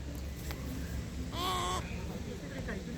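Cockatoos in Katoomba, Blue Mountains, giving a brief harsh screeching call, with softer bird calls around it over steady outdoor background noise and nearby talk.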